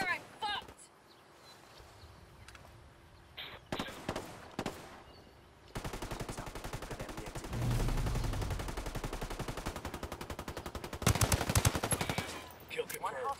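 Automatic rifle fire in Ghost Recon Ghost War comes in a few short bursts, then a long sustained stretch of rapid shots with a louder burst near the end, while players talk over it.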